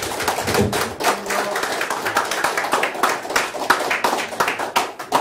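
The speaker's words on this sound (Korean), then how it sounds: "다시 한번 큰 박수 부탁드립니다" Applause from a lecture audience after a history talk, a steady stretch of many hands clapping at close range that runs unbroken to the end, with a voice faintly underneath.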